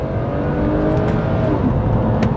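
A BMW 130i hatchback drives along with a steady, continuous engine and road drone that holds an even loudness throughout, with no voices over it.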